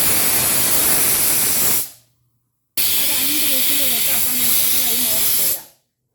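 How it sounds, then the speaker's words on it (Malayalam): A pressure cooker on high flame, cooking vegetable stew, lets out two loud, close hissing steam whistles, each around two to three seconds long, with a short silent gap between them. "2 വിസിൽ കേട്ടപ്പോൾ ഫ്ലെയിം ഓഫ് ചെയ്തു"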